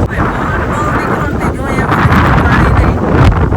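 Strong storm wind with rain sweeps through a village, roaring and buffeting the microphone in loud, uneven gusts while a person talks over it.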